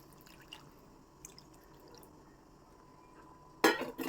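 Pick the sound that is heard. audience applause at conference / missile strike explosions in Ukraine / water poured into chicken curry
water poured into chicken curry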